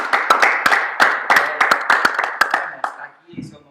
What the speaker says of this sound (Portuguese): Uma salva de palmas de Deus.